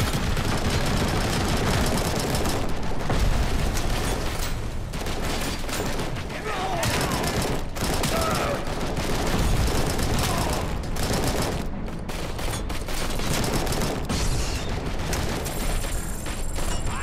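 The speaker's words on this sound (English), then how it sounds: "they have a machine gun" Dense, continuous machine gun fire and gunshots fill a firefight in the video game Robocop Rogue City, loud and relentless with mechanical clatter throughout and a voice talking underneath.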